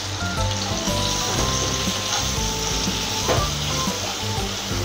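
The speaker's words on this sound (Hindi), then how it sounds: "बस ये सब कुछ डाल के हमको ढक करके इसको इसको गलने तक पकाना है" Masala and vegetables for kadhai paneer sizzling and frying in a pan over a medium-low flame, a dense close crackle with occasional stirring clinks, no voices.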